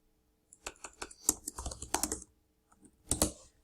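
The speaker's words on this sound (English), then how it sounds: "You should just be able to get the cursor and type directly in" Typing on a computer keyboard while editing a web page, with quick runs of close, crisp key clicks, a short pause, then a final burst of keystrokes.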